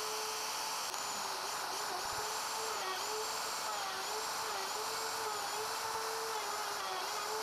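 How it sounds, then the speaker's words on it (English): A wood router cuts a mortise in shop-cabinet stock with shallow passes, giving a steady, loud, high-pitched whine whose pitch wavers slightly throughout, with no talking. "I routed out a starting and stopping point, and then connected the two with a few shallow passes."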